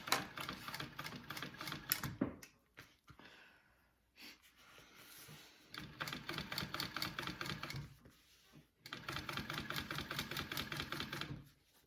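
Domestic sewing machine top-stitching a seam along vinyl on a handmade wallet, running in several bursts of rapid, even mechanical clatter separated by short pauses and handling noises, close and fairly loud.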